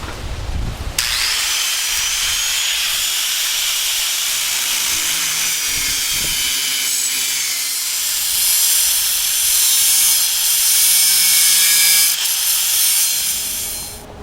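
A grinder cuts steel to shape a homemade knife, its harsh, loud, continuous high hiss running steadily for over ten seconds with no talking.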